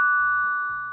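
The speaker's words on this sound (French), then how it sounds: "vous pouvez choisir le type de sonnerie que vous voulez" A single chime tone from an Aqara Doorbell G4 ringtone, a clear sustained electronic ding that rings out and slowly fades, heard alone and close.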